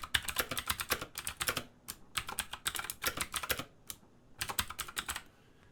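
Typing a title on a computer keyboard: bursts of quick, crisp key clicks in several rhythmic runs separated by short pauses, close and fairly quiet with no talking.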